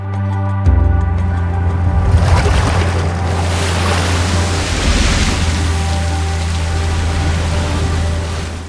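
Sea waves on a high spring tide wash over the base of a cliff fall at Lyme Regis, a loud, continuous rushing surge that swells and recedes close by, with a steady low rumble underneath and no speech.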